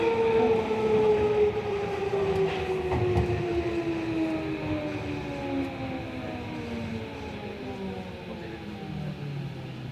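Tokyo Metro 16000 series subway train running between stations on the line toward Yoyogi-Uehara, a steady close rumble of wheels and motors with rising and falling electric motor whine tones throughout, no talk.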